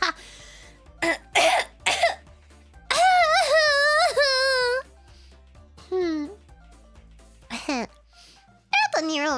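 A few short, sharp coughs from a streamer burst out between stretches of animated speaking and sing-song vocalizing, close and loud.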